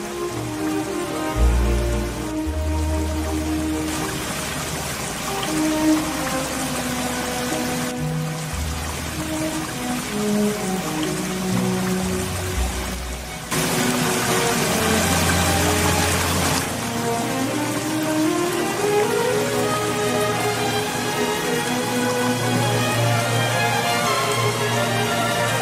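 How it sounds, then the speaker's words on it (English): Water sprays and splashes steadily from twin musical fountains at an outdoor show, a dense hiss that carries on throughout. Loud music plays over it, with shifting tones and deep bass. "Two music fountains display over 150 unique programmed animation in a magical performance of sounds and water."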